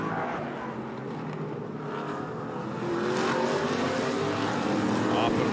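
Race cars from the ARCA Menards Series West stream through turn 10, a steady loud engine roar that builds and swells over several seconds, with a race commentator talking over it.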